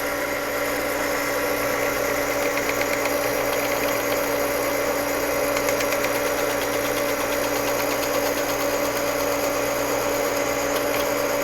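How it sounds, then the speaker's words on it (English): A Dremel rotary tool cuts .223 brass cases down for .300 Blackout, a loud, steady high-pitched whine and grind that runs without a break and carries a constant hum. "we're just hacking them off with the Dremel pretty much"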